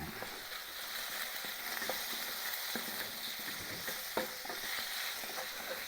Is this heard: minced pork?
yes